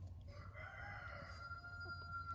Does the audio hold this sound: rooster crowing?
yes